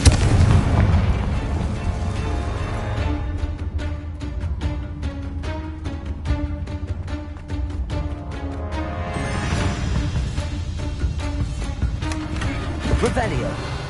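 A Confringo fire spell explodes in a Hogwarts video game: a loud, sharp blast at the start, followed by a sustained rumbling roar with game music and background sound layered over it.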